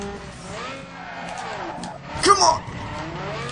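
Race cars in a video game circuit race: engine drone and tire squeal run under a player's voice, with a brief sharp screech and impact-like burst just past the middle.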